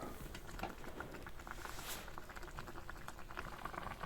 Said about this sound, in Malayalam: അപ്പോൾ ഇതാ നന്നായിട്ട് തിളച്ച് വന്നിട്ടുണ്ട്